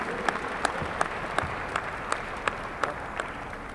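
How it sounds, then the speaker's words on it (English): Gala crowd at the ChamberWest 2018 event gives a round of applause, a soft, steady wash of clapping from a large room with a few sharper individual claps standing out. "So give them a big round of applause."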